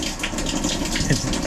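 Water running and splashing steadily behind a shower in a Solitude 390 RK RV, a continuous wet gushing close by with no voices over it.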